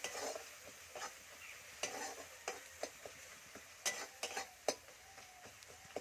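Masala spices with coriander powder fry quietly in oil for a fish curry, with soft sizzling and irregular clicks and scrapes of a stirring spoon against the pan, and no talk.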